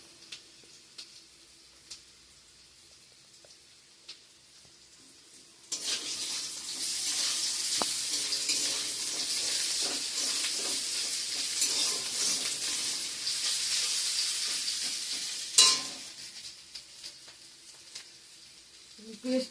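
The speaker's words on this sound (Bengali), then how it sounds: "থেতো করা আদাটা দিয়ে দিলাম।" Crushed ginger drops into a hot pan and begins sizzling. After a few seconds of quiet with small kitchen clicks, a loud, steady frying hiss starts and continues. A sharp clatter comes near the end, and there is no talk.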